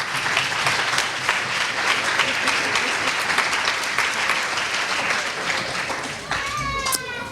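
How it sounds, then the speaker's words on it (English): A conference audience breaks into sustained, loud applause, thick continuous clapping from many hands that holds steady before tapering near the end, with a brief voice-like cry at the close. "that's a round of applause for that"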